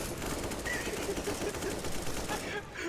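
Rapid bursts of gunfire from a Counter-Strike: Global Offensive match run steadily throughout, with voices talking and laughing over the shooting.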